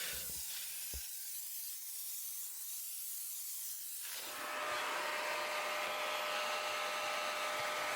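Steam cleaner jetting cleaning chemicals during smoke-damage removal: after about four seconds of near silence broken by one soft knock, a loud, steady broadband hiss of spraying steam starts and holds to the end, close and without speech.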